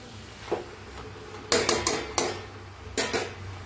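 Utensil scraping and clanking against a pan as cut potatoes are stirred while cooking a spiced cabbage sabzi, a few separate clusters of knocks and scrapes, close and fairly loud, with quiet gaps between.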